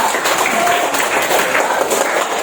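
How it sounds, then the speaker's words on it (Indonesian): A classroom gives a round of applause for a student group: dense, steady clapping from many hands fills the whole stretch at an even level, with no voices rising above it. "Tepuk tangan untuk kelompok A."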